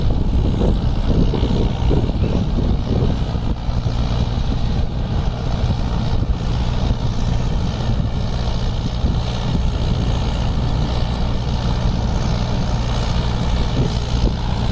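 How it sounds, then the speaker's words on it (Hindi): A Mahindra Yuvo Tech+ 585 DI Special Edition tractor working a 6.3-foot Bengal rotavator in a field, a loud continuous diesel drone with churning rumble at steady revs, close by and without talk. "চলছে গাড়ি এখন, 1850 RPM গাড়ি চলছে বন্ধুরা"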